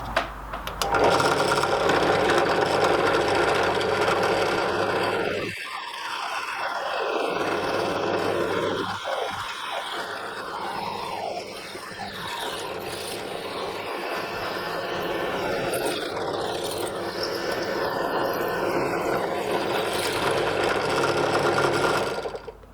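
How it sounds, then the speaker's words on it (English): A drill press bores a pilot hole in a metal part for a Gingery dividing head, a loud continuous motor whine and grinding with cutting dips and surges, close and sustained throughout. "Set it up in the drill press and drill the pilot hole for"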